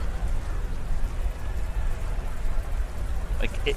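The rain weather effect of a Pokémon video game during a competitive battle gives a steady, dense patter of falling rain. A short sharp sound cuts in near the end.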